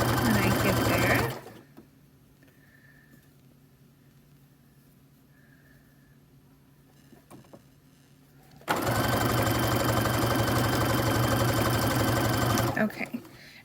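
Sewing machine stitching a fabric scrunchie, running in a loud, rapid whir, falling quiet for several seconds with faint handling noises, then starting up again in a second steady burst.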